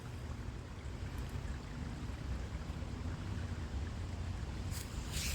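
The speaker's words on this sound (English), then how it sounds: "Yes, the creek still flows." Creek water flows steadily outdoors where two creeks merge into one, a continuous broadband rush with low rumble and some wind noise, unbroken for the whole stretch and with no talk.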